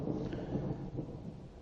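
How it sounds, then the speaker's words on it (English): Rain falls steadily in bad weather, with low rumbling like distant thunder running the whole time, a dense wash of noise and no voices. "it's now raining"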